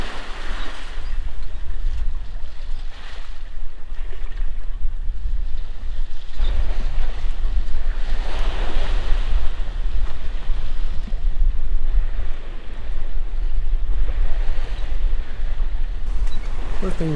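Wind and sea on a sailboat underway, a steady broadband rush of breeze and water with low rumbling wash, continuous and fairly loud throughout, with faint voice-like traces mixed in.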